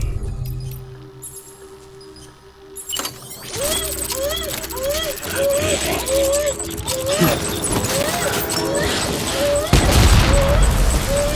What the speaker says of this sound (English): Taking fire! Open fire!